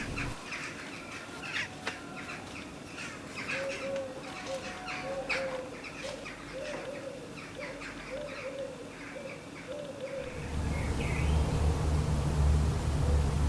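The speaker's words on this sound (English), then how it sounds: "Just listen to how many jackdaws we can hear." Outdoor calls of jackdaws, short and harsh, scattered throughout, with repeated cooing notes, then a louder rumbling wind or traffic noise near the end.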